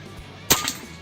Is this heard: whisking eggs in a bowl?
no